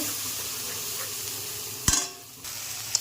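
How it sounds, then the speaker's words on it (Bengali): Spice paste sizzles steadily in hot oil for a Bengali parshe fish tel jhal, with a sharp utensil clank against the pan midway and a lighter tap near the end. "এখন মশলাটা তেলের মধ্যে দিয়ে দেবো, দিয়ে একটু কষিয়ে নেব"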